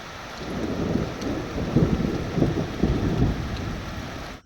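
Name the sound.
heavy rain with thunder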